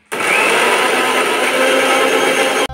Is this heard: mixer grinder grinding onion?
yes